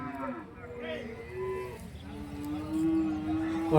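Buffaloes and cattle low and moo at a livestock cow market, several long calls overlapping amid steady crowd murmur and background noise.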